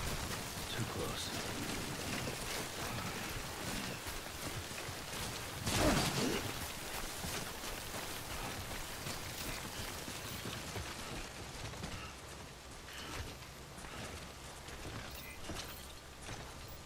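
Steady rain falling in the Death Stranding video game, a dense continuous hiss that runs throughout with one louder swell partway through, while a person talks over it.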